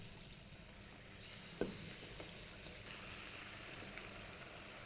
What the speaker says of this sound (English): So I am going to now put the tofu one by one, lightly coated tofu one by one into the pan